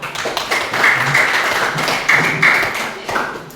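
Students in a classroom applaud a presenting group, with irregular clapping and some thuds and taps over a few seconds, near and fairly loud.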